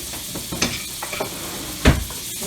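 Minced onion sautés in butter for shrimp alfredo, a close, steady sizzle broken by a few stirring scrapes and one brief heavier knock.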